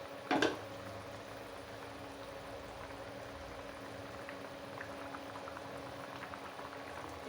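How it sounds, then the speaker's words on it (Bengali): Potatoes simmer in a fish curry, a steady low bubbling and gentle gurgle that carries on evenly after a brief louder clatter at the start, with no talking. "আলু সিদ্ধ হয়েছে, আলু সিদ্ধ হয়েছে। আর একটু জাল হবে"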